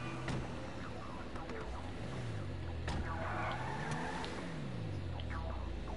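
A video-game car engine hums and rises and falls in pitch as the car is driven, steady and moderately loud, with small clicks and background effects layered over it.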